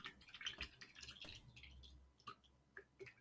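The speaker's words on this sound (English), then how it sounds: "I really like that your microphone picks up your water sounds, like the bloop, bloop, bloop." Soft water bloops and drips picked up by a nearby microphone in a quiet room, a few faint irregular plops with small gaps between them.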